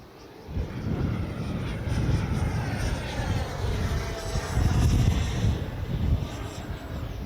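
An Arrows RC Marlin 64 electric ducted-fan model jet flying overhead, a steady rushing turbine whine with wind buffeting that swells near its loudest pass and stays fairly close throughout.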